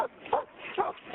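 A police dog gives two short barks or yelps during a roadside arrest, with a faint whimpering tone between them and no talk over it.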